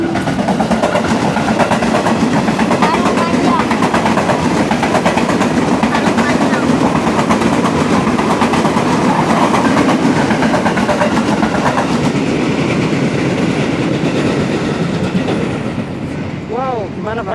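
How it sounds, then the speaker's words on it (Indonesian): A train rumbles past close by, a loud continuous roar with rhythmic rattling wheels that lasts throughout and eases slightly at the end. "Nunggu kereta lewat dulu"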